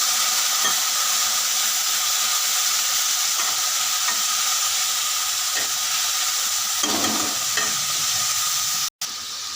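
Spice masala with turmeric and a splash of water fries in a pan for kofta, a dense steady hiss broken by occasional spatula strokes, loud and close, no talking.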